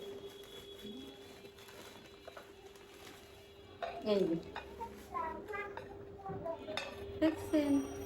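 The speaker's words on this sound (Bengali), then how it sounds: "প্লেট এটা ভাত খাওয়ার প্লেট" New dinner plates for eating rice handled and set down, producing light ceramic clinks and knocks in the second half, with a voice talking over them.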